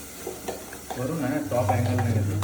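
Hot onion tempering is poured over creek fish and sizzles loudly, rising sharply after a moment as the fat hits. Someone speaks briefly over the frying.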